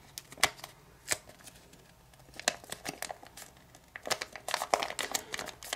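Sheets of origami paper being folded into a portrait, giving crisp crinkles and papery creasing snaps in irregular bursts, quiet at first and then busier and denser toward the end, close up with no talking.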